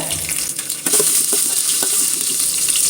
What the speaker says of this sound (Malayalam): അത് നല്ലോണം ഒന്ന് മൂപ്പിച്ചെടുക്കാം